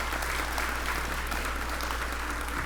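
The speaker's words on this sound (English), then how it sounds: "Y'all give him a round of applause." An audience claps through a sustained round of applause at a ribbon cutting ceremony for the Grant Center, a dense, steady wash of many hands that holds at full strength from start to finish.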